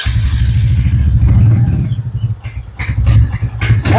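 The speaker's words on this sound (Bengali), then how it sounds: "গাড়িটা মনে হয় স্টার্ট করে দেখিয়ে দেবো নাকি বন্ধুদের? একটু সাউন্ড শুনি দাও।" A BS6 second-hand motorbike starts up and its engine is revved several times, loud and close, with rising and falling bursts over a rough idle and no speech over it.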